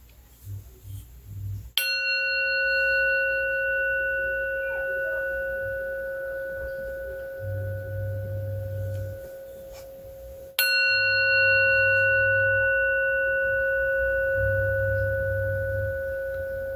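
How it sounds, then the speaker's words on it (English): Metal singing bowl struck twice like a chime, each loud bright strike followed by a long, pure ringing tone that hangs and slowly fades, with low rumbles of the stick rubbing beneath. "You can hit it like a chime, or you can actually put the stick around the bowl and make it sing"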